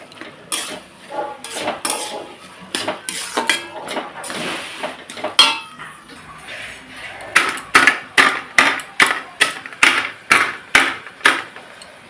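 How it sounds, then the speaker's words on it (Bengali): Fish heads are crushed with a shil-nora grinding stone, sharp thudding knocks at first irregular, then settling into a steady rhythm of strong, close strikes about once a second. "মাথাটা একটু শিলনোড়া দিয়ে ছেঁচে এর মধ্যে দিয়ে দেবো"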